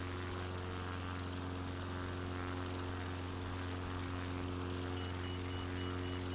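Steady droning propeller engine of a Piper XCub light aircraft in flight over alpine mountains in a flight simulator, a constant loud hum with strong low harmonics and no voices.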